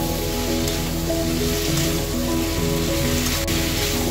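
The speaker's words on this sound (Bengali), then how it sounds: "যতক্ষণ না টমেটোগুলো নরম হয়ে যাচ্ছে এবং মশলাটা ভালোভাবে মিশে যাচ্ছে ততক্ষণ এটাকে ভালোভাবে নাড়াচাড়া করে কষিয়ে নিতে হবে" Tomatoes with ground cumin and coriander paste being sautéed in a pan give off a steady, dense sizzle and hiss that runs unbroken throughout, with faint tonal sounds in the background.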